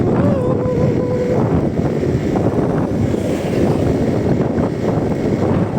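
Strong wind blowing across the sea at a beach in Ternate, Cavite, heavy buffeting gusts battering the microphone over the low wash of waves, loud and continuous.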